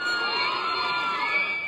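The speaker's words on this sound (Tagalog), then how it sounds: "biglang magsisigawan ng fans dahil sa excitement" Excited fans scream and shout at a movie premiere inside a crowded Mega Mall, a dense, sustained high-pitched roar of many voices echoing in the indoor space.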